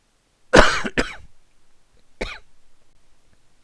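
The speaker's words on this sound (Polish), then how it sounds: "Przepraszam, ale trochę przeziębiony jestem, więc będę kaszlał." A man with a cold coughs in a quiet room: two sharp coughs in quick succession, then a single softer cough after a short pause, close and alone.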